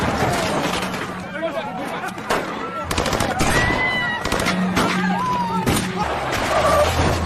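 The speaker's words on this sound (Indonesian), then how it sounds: "aksi baku tembak pun tak terelakkan lagi" Rapid bursts of gunfire crackle repeatedly in an action film shootout amid a dense, chaotic din, with a babble of voices mixed into the noise throughout.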